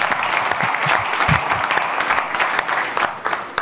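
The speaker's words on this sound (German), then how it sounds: "Kleinen Applaus." Steady applause from the audience at a panel discussion held by the BVB fan department, a full, even wash of many hands clapping at moderate volume, with some low crowd murmur beneath.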